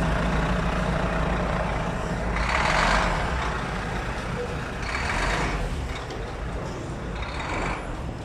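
Staten Island express buses pull up at a Manhattan bus stop on 6th Avenue at 14th Street, with a steady engine rumble, hissing air brakes and a faint reversing beep over loud street traffic.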